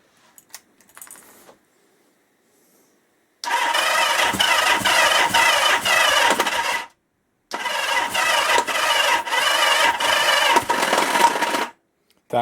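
A 1977 Kawasaki KZ650 B1 motorcycle's starter cranks the engine over without it catching, two long, loud, rhythmic churning bursts of several seconds each separated by a short pause, close up with no talk.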